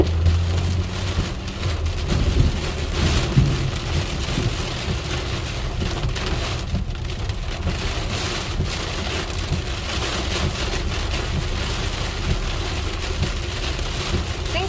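Heavy rain pours steadily during an Illinois spring thunderstorm, a dense continuous hiss of drops on surfaces with a low rumble underneath, loud and close throughout, with no voices.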